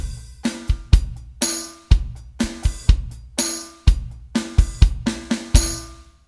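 A Roland electronic drum module plays a snare rim shot layered with a tambourine, repeated in a steady groove: sharp, close clicks with jingling shimmer, alone without talk.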